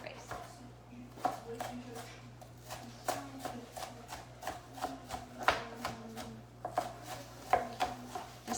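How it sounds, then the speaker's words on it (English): A knife chops onion on a cutting board for lasagna in a home kitchen, quick irregular thuds at close range that repeat steadily over several seconds. "Chopping up a few ones that are not as fine as I would like them to be real quick"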